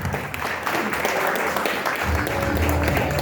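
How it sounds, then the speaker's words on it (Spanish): An audience at a talk about film swords bursts into loud, sustained applause, a thick even clatter of many hands that fills the whole stretch, with some crowd murmur beneath. "Un enorme aplauso a Leonardo Raveluz por la charla"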